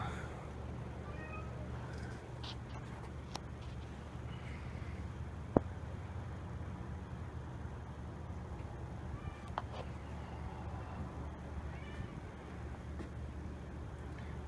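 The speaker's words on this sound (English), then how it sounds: "Cat wants to know what's going on." A cat meows several times at moderate distance in a workshop while a microwave-transformer metal melter is being set up, short plaintive calls spread over a steady low background hum.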